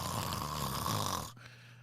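A voice imitates snoring, a loud, rough, growling rasp like a bear that holds steady for over a second, then cuts off abruptly.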